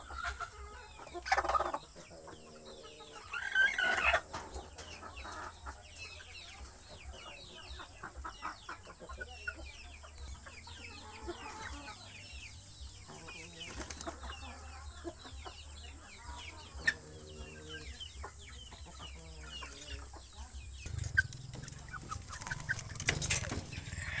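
Native chickens cluck and murmur softly in a rural backyard flock, with intermittent calls of varying loudness over a steady low background hum.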